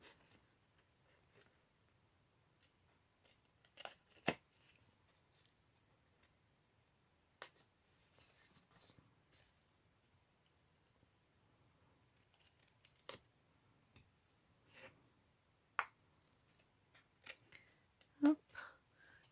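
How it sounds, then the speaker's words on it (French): Scissors snip through paper tabs in a quiet room, making sparse, sharp clicks scattered across the span, some isolated and others in short clusters, with faint handling noise between cuts. "on met toujours les ciseaux de la même façon."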